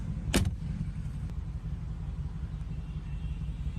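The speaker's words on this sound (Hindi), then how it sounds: "इसकी फेमस डोर क्लोजिंग साउंड।" A single solid thud of a 2024 Mercedes-Benz G-Class AMG G 63 door shutting near the start, followed by a low steady rumble of an idling engine.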